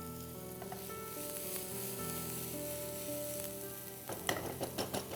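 Chopped onion sizzling steadily in a pan with jeera and fennel seeds for green peas kachori, a continuous close fry with a few sharper stirring crackles toward the end.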